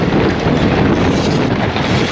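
A strong 20–25 knot southeast wind buffets the microphone on a fishing boat out on the Great Barrier Reef, making a loud, continuous roar with water rushing beneath it and no talking.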